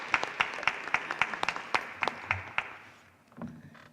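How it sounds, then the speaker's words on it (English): Scattered applause at a school board meeting, a thin run of distinct individual claps in uneven rhythm that thins out and stops after a few seconds, followed by faint room noise and a low murmur. "Let's give her a round of applause."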